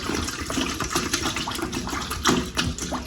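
Water pours from a bottle into a cooking pot to cover pork being boiled for crispy pork, a steady splashing, gurgling stream close by with no talk.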